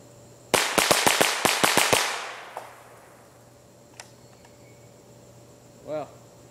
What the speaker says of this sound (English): Shooting 9 rounds, and then the 10th one will come next.